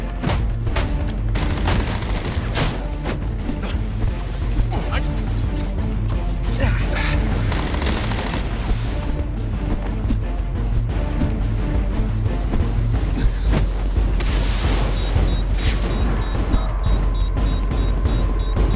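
Police firing on a suspect in Batman: Arkham Origins, a dense, sustained clatter of gunfire and mechanical rattling that runs almost without a break, loud and busy, with occasional sharper bursts and brief shouts mixed in.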